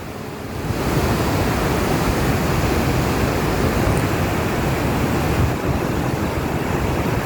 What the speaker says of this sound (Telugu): చిక్కడి అక్కడ వాటర్ చూడు బాగా లేస్తుంది చూసినా